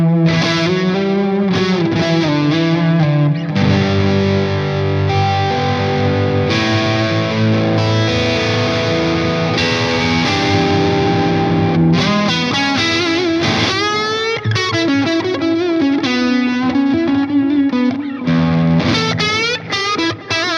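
Electric guitar played through an Engl E-653 Artist Edition 50 amp with a delay effect, loud distorted chords and sustained notes ringing with repeating echoes, continuous and alone without talk.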